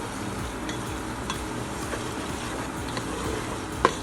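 Ginger paste being stirred in a hot pan, with a soft continuous sizzle of frying under scraping stirs and a sharp utensil tap near the end.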